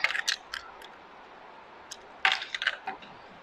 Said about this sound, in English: Just going to trim those ends.